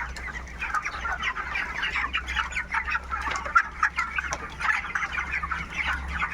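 Many 24-day-old chickens cluck and chatter continuously in a crowded poultry farm house, a busy overlapping chorus over a low steady hum.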